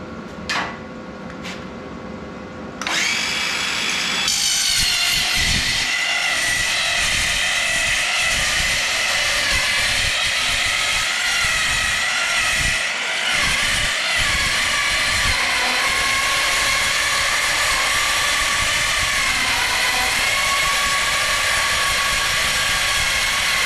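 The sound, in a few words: loud power tool cutting metal for a welded ammo box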